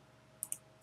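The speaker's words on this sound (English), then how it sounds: "Just highlight both your texts by clicking Control, then click C on your keyboard" Three sharp computer keyboard key presses, two close together and a third after a short pause, faint and isolated against a quiet background.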